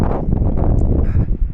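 A strong gust of wind at a rocky gorge buffets the microphone, a loud low roaring rumble that covers everything for the whole moment.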